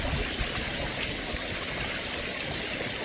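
Water from Aquascape Biofalls waterfalls on a backyard pond pours and splashes in a steady, continuous rush, close and unbroken, with no voices.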